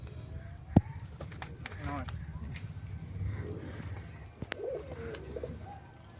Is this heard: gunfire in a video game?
no